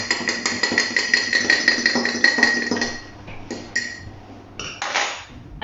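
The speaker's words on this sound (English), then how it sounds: "Give it a whisk up." An egg is whisked in a dish with quick, evenly spaced clinks of utensil against the dish. The clinks run briskly at close range, then break into a few short separate bursts.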